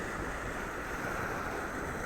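Wind blowing steadily over the sea off the island of Cres, with Istria and Krk across the water, making a continuous, fairly loud rushing noise mixed with surf-like wash and no voices.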